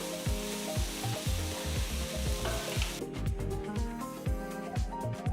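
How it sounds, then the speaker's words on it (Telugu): Chopped onions frying in a pan until golden brown, a loud continuous sizzle broken by rhythmic scraping strokes of a spatula stirring them. "వీటిని చిన్నగా తరిగిన ప్యాన్లో వేయాలి ఇవి మంచి గోల్డెన్ బ్రౌన్ రంగులోకి మారేంత వరకు వీటిని వేయించాలి"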